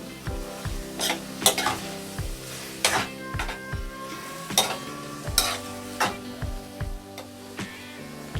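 Squid frying Mangalore style in a pan, releasing its own water, sizzles steadily while a utensil stirs and scrapes against the pan in regular strokes, close and fairly loud.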